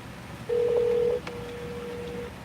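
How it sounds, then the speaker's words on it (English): A single sustained dial-pad tone, then a fainter continuing tone, on a phone close by with no talking. "I'm gonna have to call the customer."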